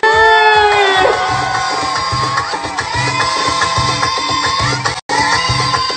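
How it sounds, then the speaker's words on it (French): Wedding guests cheer and whoop loudly for the newlyweds over loud party music with a thumping beat. The crowd noise stays close and continuous, with a brief dropout near the end. "des applaudissements tous ensemble pour les mariés."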